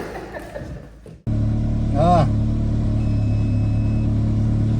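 A Ferrari engine starts up loudly and settles into a steady close rumble, with a brief rising rev partway through; a voice speaks briefly before the engine cuts in.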